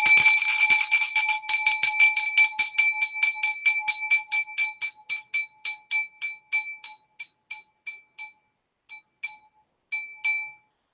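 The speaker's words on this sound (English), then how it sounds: "I got an old glass bell." An old glass bell rings repeatedly in quick, bright strokes with clear overtones, starting dense and loud and then slowing into sparser, fading dings over about eleven seconds, heard alone with no talk.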